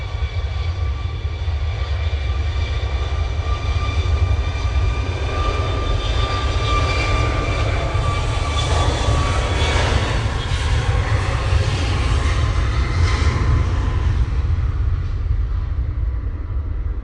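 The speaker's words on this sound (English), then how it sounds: "we do have Ryanair Max off to Malaga." Ryanair Boeing 737 MAX jet departing Manchester Airport in windy weather, a loud, steady engine roar with deep rumble and whining tones that swells and slowly fades over a long stretch, heard from a distance without talk.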